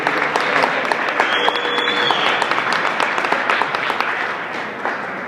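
Sustained audience applause at a camp show closing ceremony, a dense, steady wash of clapping from a large crowd lasting throughout.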